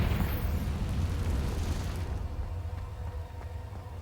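A Confringo fire spell bursting in Hogwarts Legacy: a deep, rumbling blast that fills the first two seconds, then decays into a low, fading roar.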